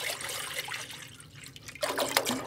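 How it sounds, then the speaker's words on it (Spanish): A litre of milk poured from a carton into a cooking pot, giving a steady liquid rush and splash that grows fuller and louder toward the end, with no talking. "Aquí vamos a vaciar el litro de leche."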